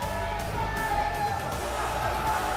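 Arena crowd cheering for the wrestler Ricochet in the wrestling game WWE 2K, a steady roar of many voices with whoops rising and falling under the noise.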